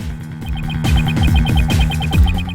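Heartbeat sound effect from the Phoenix Wright: Ace Attorney – Dual Destinies video game, a loud pulsing low thump repeating rhythmically over a humming, tonal music bed.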